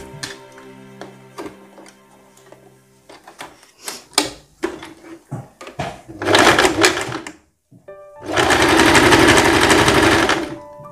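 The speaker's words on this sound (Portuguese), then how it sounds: "E agora a gente vem costurando exatamente essa parte aqui" Sewing machine stitching the V neckline of a summer dress, running in short bursts and then in two long, loud continuous runs, with a brief pause between them.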